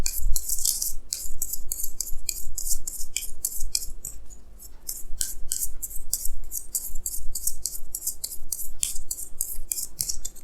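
Tarot cards are shuffled and drawn in a rapid, close series of crisp, papery snaps and rubs, with a short lull midway.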